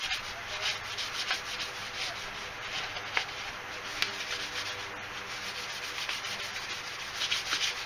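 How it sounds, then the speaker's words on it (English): Steady, close rubbing of 1000 grit sandpaper over a clone trooper detonator tube, a continuous dry hiss with slight back-and-forth swells and a couple of faint ticks. "I'm going to go over tube now with some 1000 grit. Polish it up a bit."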